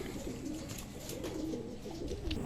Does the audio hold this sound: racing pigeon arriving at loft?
yes